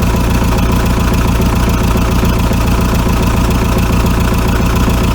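A VW T3 TDi diesel engine idles with no exhaust fitted, a loud, steady, close-up clatter with a rhythmic knocking pulse throughout and no voices.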